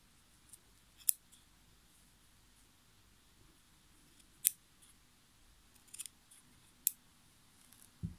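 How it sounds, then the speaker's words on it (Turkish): Scissors cut between the wound yarn strands of a handmade tassel, giving four or five sharp, isolated snips spaced a few seconds apart in an otherwise quiet room. "olan püsküllerin aralarını kesiyoruz."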